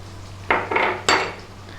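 Garlic and ginger go into a pan with Chinese sausage and its oil for sausage fried rice, giving three short, loud bursts of clattering, hissing pan noise close by, separated by brief quieter gaps.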